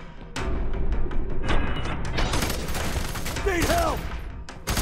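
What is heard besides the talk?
gunfire in video game F.E.A.R. 3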